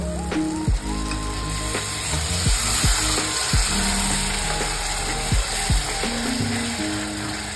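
Tomato and onion masala sizzling in hot oil in a pan, a loud continuous frying hiss with scraping stirring knocks and background music.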